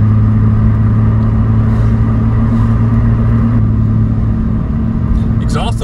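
Toyota MK2 Supra with a six-speed gearbox, 3-inch downpipe and 3-inch exhaust idles and rumbles in a steady, low drone, fairly loud and close, with a faint rise toward the end.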